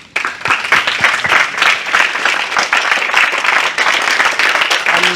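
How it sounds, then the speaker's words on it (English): An audience at an institute lecture applauds the managing director, loud, dense clapping that begins abruptly and continues steadily close by, with a brief murmur of voices near the end. "let us thank him by giving applause"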